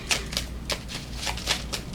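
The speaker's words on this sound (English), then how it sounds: "I'm just shuffling, and they are falling" Playing cards are shuffled by hand in a quick, irregular run of soft riffling snaps, close and clear with no talking.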